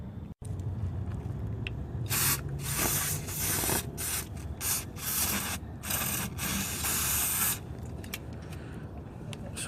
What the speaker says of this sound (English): So a little bit of scrubbing.